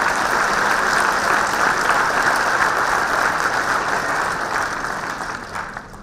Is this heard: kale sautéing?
no